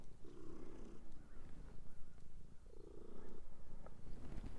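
A cat purrs in two soft, low rumbling bursts close to the microphone outdoors in a little bluestem prairie patch, with steady faint background noise in between.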